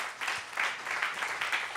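Soft, fairly distant applause from an audience at a French marketing and media talk, a brief wash of clapping that swells and holds at low volume.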